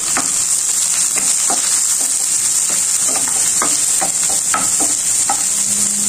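Onions and green chillies frying in hot oil for cabbage bhaji, a steady loud sizzle throughout with scattered crackles and pops from stirring.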